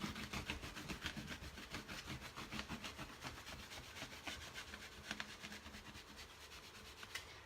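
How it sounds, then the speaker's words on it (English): Gauze catching and dragging as it is wiped across a headboard being refinished, a close, faint, continuous scratchy rubbing in rapid repeated strokes. "And that you hear is just the gauze catching."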